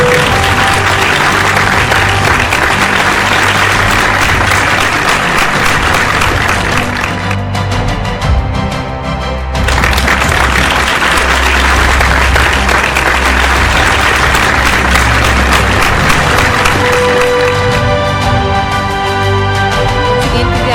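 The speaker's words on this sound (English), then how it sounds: "A big round of applause, ladies and gentlemen. Put your hands together for the award winner," Sustained, loud audience applause fills a hall at a scientists' award ceremony, with steady dense clapping for an award winner continuing throughout, a brief dip in the middle and a few voices faintly underneath.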